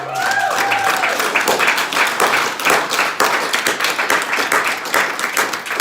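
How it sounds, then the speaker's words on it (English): An audience at a sales training event applauds loudly and steadily for several seconds, with dense, sustained clapping throughout and no voices rising above it. "Give her a round of applause."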